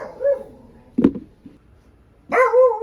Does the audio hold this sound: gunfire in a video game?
no